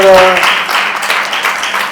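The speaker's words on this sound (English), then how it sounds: "Big round of applause for" A dense round of applause from an audience at a Mother's Day celebration for a mothers' milk bank, loud and continuous, following a brief spoken voice at the start.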